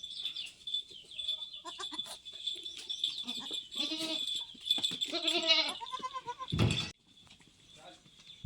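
Goats at a goat farm house shed, several wavering bleats rising over a steady high hiss, with clucking fowl mixed in and a person talking at times.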